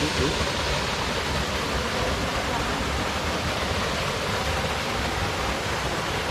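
Chorrón waterfall in Villamayor, Piloña, Asturias, roaring as a steady, dense rush of falling water that fills the whole clip at close range with no pauses.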